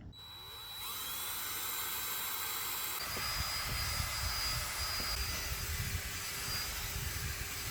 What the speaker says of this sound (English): after using a drill and some of our leather cleaner